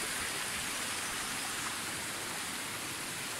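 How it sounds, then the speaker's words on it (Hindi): Waterfall water near Rishikesh rushes in a steady, hissing wash, continuous broadband noise at a small water crossing, with no voices. "ये है जी वही झरने का पानी, एक वाटर क्रॉसिंग जी छोटी जी"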